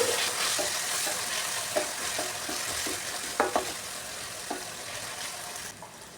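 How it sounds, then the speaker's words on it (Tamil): Steady sizzling of cooked rice sautéing in a pan with tomato and mushroom, with occasional scraping and clinking from stirring, close and continuous. "சோறை வதக்கிக்கணும்."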